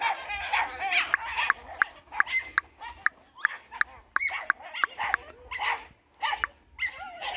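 A dog barks repeatedly in sharp, evenly spaced bursts, close and loud outdoors, while someone talks continuously over and between the barks.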